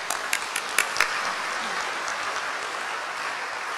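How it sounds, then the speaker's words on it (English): A seminar audience applauds its distinguished speakers with a soft, fairly distant patter of clapping that holds steady for a few seconds, with a few sharper individual claps near the start. "Please give round of applause to the distinguished speakers."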